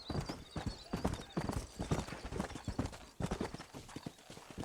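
Horse hooves clip-clop in a brisk, steady rhythm as riders head out of town in Red Dead Redemption, clear and fairly close, with faint whinnying and no talk.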